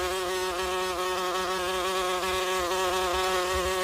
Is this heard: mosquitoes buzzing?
yes